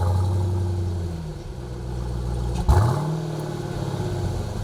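A 2018 Jeep Grand Cherokee Trackhawk engine idling with a low exhaust rumble, then a sharp start-up or blip near the middle that settles back into a steady idle, close by.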